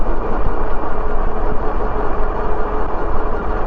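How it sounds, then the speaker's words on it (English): A car coming up behind a moving vehicle on a countryside road, heard as a steady, loud low engine and road rumble that holds throughout with no talk. "There's a car coming up behind me now."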